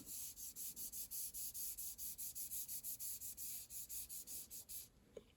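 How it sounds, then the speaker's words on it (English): A fingertip rubs gently over a pencil drawing of driftwood on paper in quick, even strokes, about twenty soft close-up rasps in a row before stopping. "Now when I rub it with my finger, I have to rub super gently"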